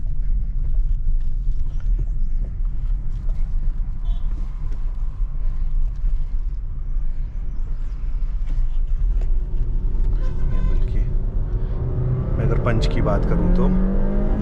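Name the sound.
Honda City car engine running in first gear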